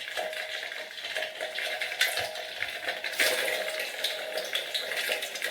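Fish pempek made with mackerel fries in a pan over low heat, giving a soft, continuous sizzle and crackle up close, with a few louder pops.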